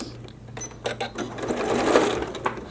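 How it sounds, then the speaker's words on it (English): A sewing machine stitches thick upholstery fabric for a pink chair makeover, giving a close, steady mechanical whirr with short starts and a rising run of rapid needle clatter. "So I'm going to go in there and stitch that."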